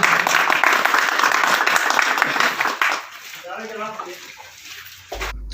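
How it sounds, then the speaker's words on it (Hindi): Loud applause rises from a community gathering honouring local police staff, then fades after a few seconds as someone speaks in the quieter remainder. "जोरदार तालियां।"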